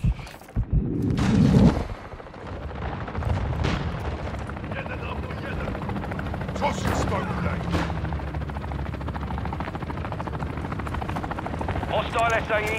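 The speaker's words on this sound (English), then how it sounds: "Cargo helo is inbound." A cargo helicopter in the Modern Warfare 2 video game thrums loudly and steadily amid a battle, with booming explosions and gunfire bursts around it and radio voices over the noise.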